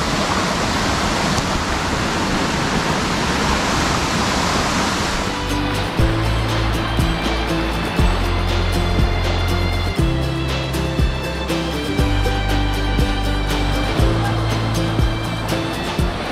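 Continuous broadband rush of a river flowing along a hiking trail near Mandello del Lario, steady and fairly loud throughout, with tonal music coming in over the water partway through.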